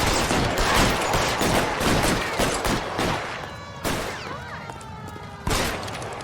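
Bursts of gunfire ring out during a shootout in the video game L.A. Noire, with dense rapid volleys up front giving way to sharper separate shots and a few loud cracks later.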